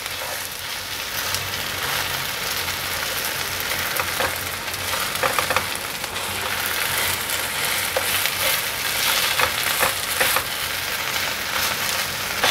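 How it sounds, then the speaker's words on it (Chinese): Taro and pumpkin cakes pan-frying in oil, a loud, continuous crackling sizzle with dense bright spitting that holds steady throughout, no one speaking. "第二面继续让它煎成焦黄色"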